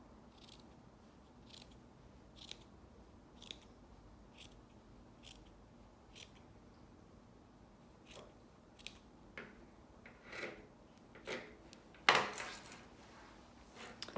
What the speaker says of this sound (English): I have to cut this rib part off the bottom